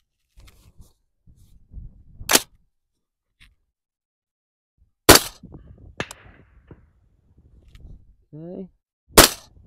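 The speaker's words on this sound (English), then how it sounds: "let's start off by putting some suppressed rounds through the Mark 11" Three suppressed shots from a Mark 11 rifle, each a sharp, loud crack set apart by several seconds, with quieter handling noises and a brief spoken word in between.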